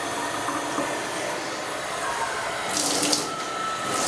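Tap water running steadily into a sink to bathe a kitten, a continuous close splashing hiss that swells a little louder toward the end.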